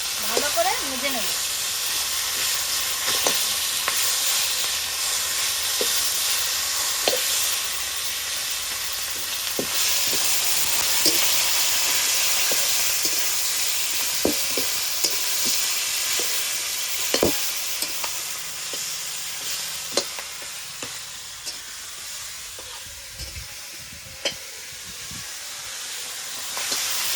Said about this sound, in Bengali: এবার খুন্তি দিয়ে ভেঙে ভালো করে ভেজে নেব